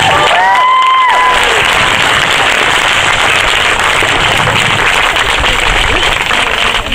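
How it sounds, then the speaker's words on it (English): Loud, sustained applause from a crowd at a community gathering, dense clapping filling the space throughout, with a brief voiced shout or cheer near the start. "So, come on, give them a round of applause."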